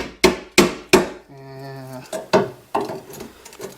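Sharp hammer blows strike the rusty corner of a body panel on a 1998 Suzuki Samurai: three quick impacts, a short harmonic metallic ring, then a few more knocks, close by.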